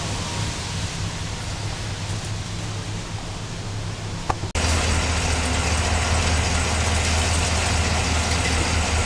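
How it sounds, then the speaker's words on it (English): The 2025 Cadillac Escalade engine runs steadily during transmission fluid service, with a constant broadband hum that grows louder and fuller after a brief click midway. No one talks. "started Escalade, and ran through the gears"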